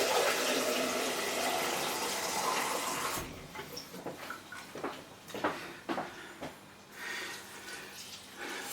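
Water gushes from a kitchen tap into a pot for vegetable soup, loud and steady at first, then the flow cuts off and is followed by scattered drips and soft clinks.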